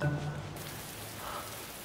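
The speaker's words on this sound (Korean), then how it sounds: "아우, 갑자기 비가 오네." Staged rain falls on a Korean variety show set, a steady close patter of drops spread across the whole range, with a brief hum at the start and no talk.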